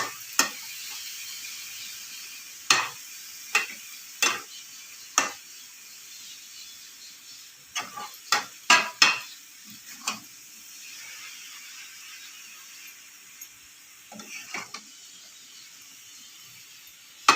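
Cabbage curry stir-frying in a pan, a soft continuous sizzle broken by sharp scraping strokes of a spatula, some in quick clusters, heard close with no talking.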